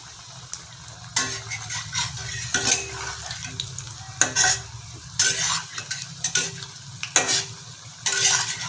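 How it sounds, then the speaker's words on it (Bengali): Bottle gourd peel pakoras fry in oil on medium heat, a soft steady sizzle beneath repeated sharp scraping clinks of a spatula or ladle against the pan, coming every second or so. "মিডিয়াম আঁচে আমি পকোড়াগুলো বানাচ্ছি।"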